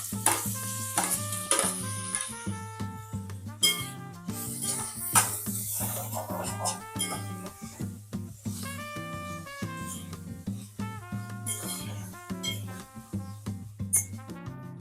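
Tomatoes fry with ginger garlic paste in a pan for chicken biryani, a steady sizzle with scraping stirs over tonal background music.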